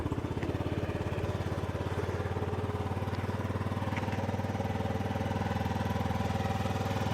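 Yamaha C3 50cc fuel-injected scooter engine idling steadily, a close, even putter holding the same pace throughout with no talk.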